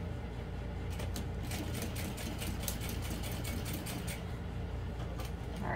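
A sewing machine stitches an all-vinyl bowler bag with a steady, close, rapid mechanical chatter that continues evenly throughout over a low motor hum.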